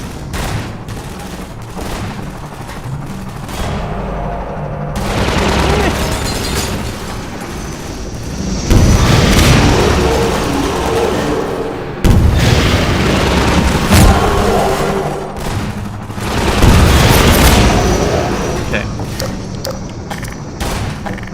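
During a gunship battle in Half-Life 2, loud booming explosions and rapid gunfire come in heavy waves, with rockets blasting repeatedly and a barrage that rises and falls.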